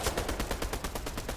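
Rapid automatic gunfire in Fortnite, a fast, even burst of shots that continues for the whole moment without a break.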